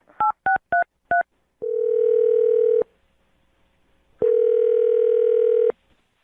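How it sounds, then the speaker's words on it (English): Telephone keypad dialing a number: four quick touch-tone beeps, then two long steady ringback tones separated by a pause, loud and close with no talking. "I'm going to dial her phone number right now"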